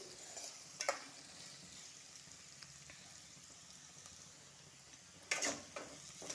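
Beetroot roasting in a pan, a quiet low sizzle with a few sharp clinks of a spoon stirring against the pan, mostly steady and faint with no talking.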